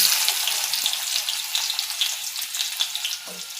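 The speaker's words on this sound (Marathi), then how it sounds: "कांदा घालून घेतल्यावर कांदा छान फ्राय होऊ देऊ तेलात." Onion frying in hot oil with cumin in a pan, a close, steady crackling sizzle that stays dense throughout with a few light stir taps.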